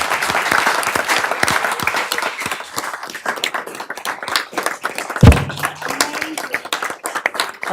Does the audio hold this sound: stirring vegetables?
no